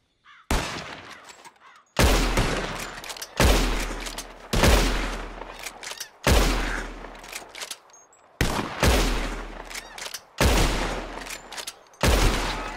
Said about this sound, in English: You shoot four birds out of the sky before me, you win.